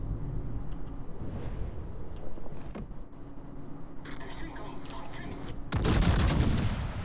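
Naval guns firing a salvo in World of Warships, a heavy broadband boom near the end after a stretch of rumbling engine and ambient battle noise, with faint scattered distant shots earlier.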